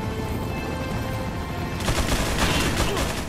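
Gunfire in the PS4 video game Resident Evil 4: a steady wash of game noise gives way midway to dense, rapid bursts of shots that crackle loudly through the second half.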